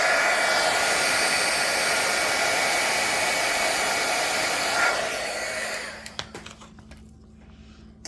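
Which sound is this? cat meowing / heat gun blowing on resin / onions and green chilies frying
heat gun blowing on resin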